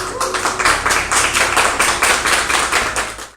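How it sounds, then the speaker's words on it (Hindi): An audience claps to welcome a guest poet, Dharmendra Uniyal, onto a Hindi poetry show stage, a loud, dense burst of applause with rhythmic unified beats, close and steady for a few seconds before fading. "तो जोरदार तालियों के साथ स्वागत कीजिए धर्मेंद्र उनियाल जी का"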